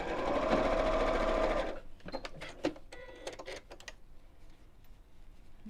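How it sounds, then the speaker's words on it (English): A sewing machine stitches straight across the end of a simple fabric wallet, running in one fast continuous burst before stopping, followed by a few light clicks and taps of handling. "then we'll sew straight across the end. With about 1/4 inch seam allowance."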